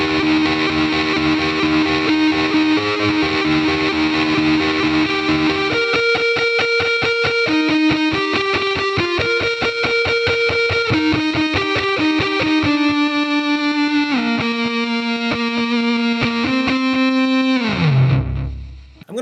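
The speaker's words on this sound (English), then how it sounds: "The second scene I have set up for this one just adds a little bit of tremolo and some delay and reverb." An electric guitar plays through a Mooer GE150 Max set to optical tremolo, real delay and room reverb. A loud, sustained, distorted melodic line changes note steadily with a pulsing shimmer, and a final low note slides down and fades near the end.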